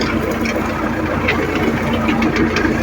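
MTZ-82 tractor engine running steadily while pulling a KRN-1.4 cultivator to weed a watermelon field, a continuous close mid-pitched drone with a faint knocking rhythm and no talk.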